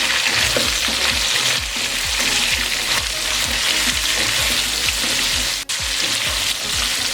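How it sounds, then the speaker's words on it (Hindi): Steady, loud sizzling of ginger garlic paste frying in hot oil for chicken biryani, with repeated scraping strokes of a spoon stirring it and no voices. "हमने अदरक लहसुन का पेस्ट ले लिया। इसको 10 से 20 सेकंड के लिए हम फ्राई करेंगे।"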